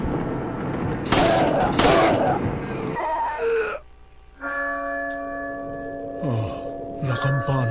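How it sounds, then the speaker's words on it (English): A church bell tolls in the village of the video game Resident Evil 4, with sustained ringing tones after a burst of shotgun fire and loud game clatter; later sharp impacts cut in near the end. "Oh, la campana. Es hora de rezar."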